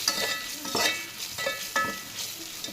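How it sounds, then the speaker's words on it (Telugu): Ginger paste is stirred into frying beetroot in a pan, with repeated close spatula scrapes and clinks in an uneven rhythm over a light sizzle and no speech. "మనం ఇందులో ఇప్పుడు జింజర్ పేస్ట్ వేసుకోవాలి. ఇలా వేసి కలిపేసి"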